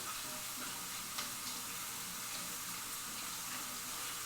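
Kitchen tap running steadily while hands are washed during home cooking of spaghetti bolognese, a constant faint hiss of water with no talk.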